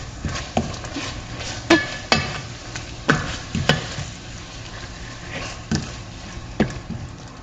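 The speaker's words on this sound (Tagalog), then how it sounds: "Maglagay tayo ng garam masala powder, turmeric powder, and then haluin natin." A spoon scrapes and clinks in a pot as garam masala and turmeric are stirred into chicken biryani over soft background sizzling, with about ten irregular, sharp knocks spread across the stirring.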